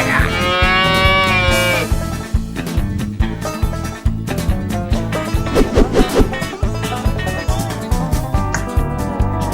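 A cow in the Run Cow Run video game gives a long, loud moo over a steady pulsing game soundtrack. Several shorter moo-like calls follow, mixed into the beat-driven music throughout.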